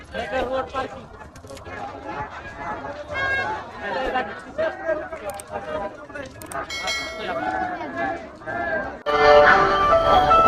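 Dense crowd of pilgrims at the Bhima Koregaon Vijay Stambh memorial, overlapping voices and calls close by with bell-like clinks, swelling into a louder, brighter roar of noise near the end.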